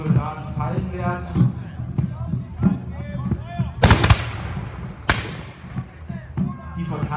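Musket volley fire at a Landsknecht battle reenactment, two sharp loud black-powder blasts with echoing tails standing out over a crowd's talk and background clatter.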